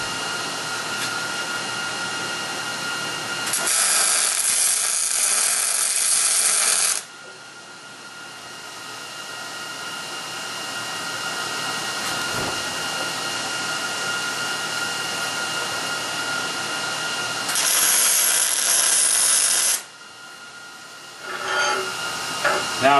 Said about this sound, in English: Now I'll get the far side and then I'll weld all the way along